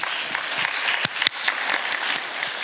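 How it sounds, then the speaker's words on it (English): Audience applause at an interview event, a dense patter of many hands clapping at moderate volume, steady through the short stretch with a couple of sharper claps standing out. "Let's give those guys a round of applause."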